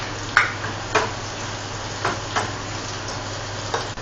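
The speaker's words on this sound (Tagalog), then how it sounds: "Ngayon, pwede na natin uling ilagay ang garlic." Garlic sizzles as it goes into a hot pan with onions while tinola is cooked, a steady frying hiss broken by a few soft stirring clatters, close and alone.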